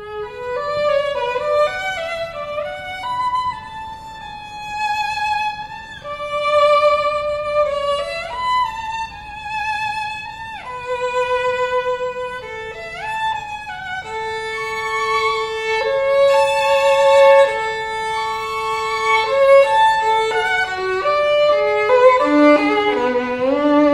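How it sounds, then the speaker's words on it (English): A solo violin plays a melodic excerpt for about twenty-four seconds, its bowed notes clear and close with slides between pitches, moving from sustained tones to quicker passages with no voices over it. "Here's the sound of the violin."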